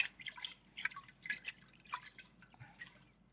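Water dripping and trickling in a kitchen as honey rinse water is poured into a pot for mead, a faint, close series of irregular splashy drips and droplets.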